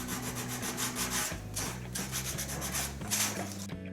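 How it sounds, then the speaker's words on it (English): Repeated back-and-forth sanding strokes on wood, a rhythmic rasping close to the microphone with no voices. "some rounding, shaping, and sanding"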